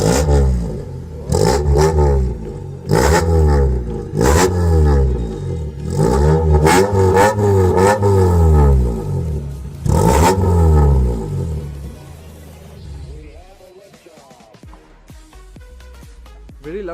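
Modified Honda City VTEC with a side-exit exhaust pipe revs hard in repeated loud bursts, each climbing then dropping back, loud and close, before settling into a quieter idle near the end.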